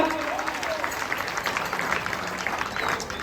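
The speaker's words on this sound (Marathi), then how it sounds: "जरा टाळ्या होत जाऊ त्या पंचासाठी सुद्धा" A crowd claps continuously at a traditional kushti wrestling match in Pune, India, a dense, even wash of applause that holds steady throughout.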